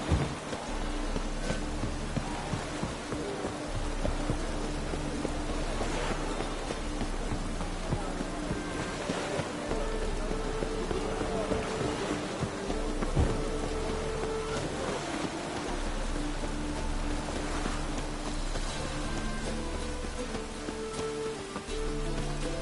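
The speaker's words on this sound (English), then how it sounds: "Looks like rain." Steady rain falls throughout a stormy scene in the video game Witcher 3: Wild Hunt, with low thunder rumbling underneath and faint background game sounds.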